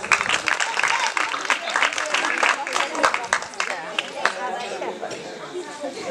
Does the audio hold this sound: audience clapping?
yes